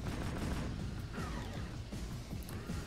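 Tank cannon fire in Jak II booms and crashes repeatedly, a dense, loud barrage of blasts and impacts layered over rumbling game noise.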